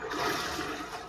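Water rushing loudly through an underground area in the video game Tears of the Kingdom, a steady, close, continuous broadband roar with no voices.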